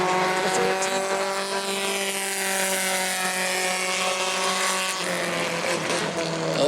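Bomber A class race cars run a 20-lap main event at New Smyrna, their engines a loud, steady, close drone whose pitch slides and shifts throughout.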